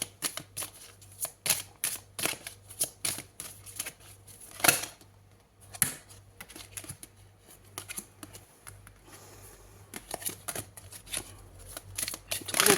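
Tarot cards are shuffled and drawn close up, producing a quick run of crisp riffling clicks and snaps, with a brief pause before the shuffling resumes.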